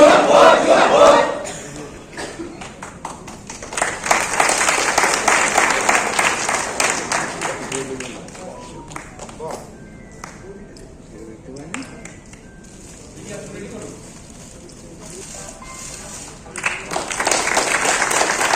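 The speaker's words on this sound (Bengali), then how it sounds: "জোরে করতালির মাধ্যমে আমরা আমাদের প্রিয় নেতাদের বরণ করে নিচ্ছি।" A crowd at a Trinamool INTTUC blood donation rally in Chinsurah claps loudly to welcome leaders, a dense sustained wash of applause with cheering that rises and falls over about eighteen seconds, with a voice speaking through part of it.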